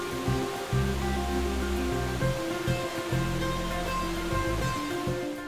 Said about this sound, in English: Tinatawag ito na Horsetail Waterfall dahil umaagos ang malaking parte ng tubig nito sa bato.